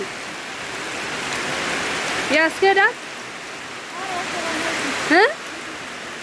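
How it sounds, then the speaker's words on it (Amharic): Heavy rain pours down as a steady, dense hiss, with a couple of brief spoken phrases heard over it. "ዝናቡ እየባሰበት ነው።"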